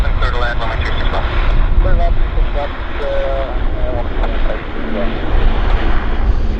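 A Q400 turboprop airliner lands at Vancouver airport: a steady, loud engine and propeller roar with a broad rushing wash fills the whole stretch, with a person talking over it.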